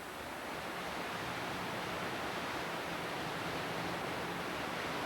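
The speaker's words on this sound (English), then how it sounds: "Listen to that brook run." Mountain brook near Lake City, Colorado, in autumn, a steady, dense rush of running water close by that holds an even, unbroken hiss for the whole stretch, with no voices.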